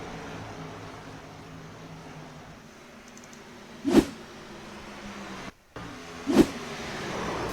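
Stock cars racing on an oval track in Las Vegas: a steady engine drone from the pack with two sharp, loud passes swelling and fading, heard from trackside.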